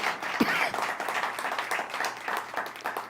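A church congregation applauds during a sermon, steady distant clapping spread across the room, moderately quiet with a few sharper individual claps.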